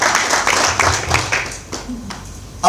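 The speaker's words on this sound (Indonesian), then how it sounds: "Tepuk tangan dulu kepada Tuhan ya." Church congregation clapping hands together during a worship service, a burst of brisk rhythmic claps that thins out toward the end, with a voice briefly audible.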